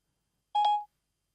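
A short electronic tone sounds on a phone as Siri starts a call to mum, a single clean beep with a sustained pitch, lasting about a third of a second, alone in silence.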